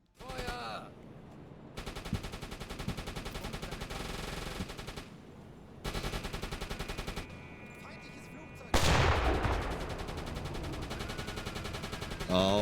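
Rapid machine-gun bursts from a U-Boat's deck guns in a submarine video game, fired at attacking bombers, come in loud sustained volleys separated by short pauses, with a heavier blast near the end.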